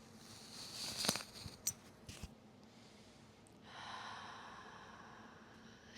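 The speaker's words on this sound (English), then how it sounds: "Breathe for a moment." Deep breathing during a Himalayan Hatha yoga practice: a few soft clicks and shuffles early on, then a long, faint, airy breath that swells and holds steadily toward the end, quiet and close with no talking.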